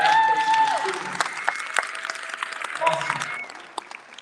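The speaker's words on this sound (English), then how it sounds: "can I get a round of applause?" A crowd at an evening event with Virginia's lieutenant governor and Miss Virginia breaks into applause, mixed with cheers and whoops, loud at first and then tapering as people keep talking.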